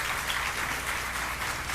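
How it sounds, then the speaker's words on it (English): Brief, steady applause from a crowd at a New York Green CHIPS Act event, greeting Majority Leader Chuck Schumer, a short even patter of many hands at moderate distance. "let's give another round of applause to Majority Leader"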